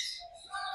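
Birds chirp and squawk inside an aviary at feeding time, short bright calls close by and overlapping, with no voices.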